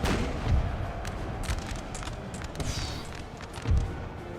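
Musket volleys in the battle game Napoleon: Total War, a series of deep booming shots at irregular intervals over a busy battlefield din, some louder and nearer than others.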